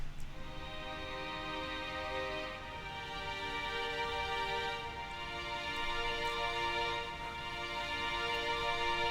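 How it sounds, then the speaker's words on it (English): A sampled virtual violin plugin sustains long, bright bowed notes on its own, steady and fairly quiet throughout, with no voices. "So to start things off, I had this violin"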